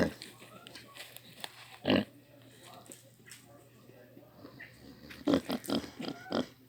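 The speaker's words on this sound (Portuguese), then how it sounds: "Já viu o porco roncar? Já tá roncando, quer ver? Olha o ronco dela." A sleeping pig snores in short, rough bursts, one isolated and then a cluster of several in a row, quiet but close, with soft background noise between them.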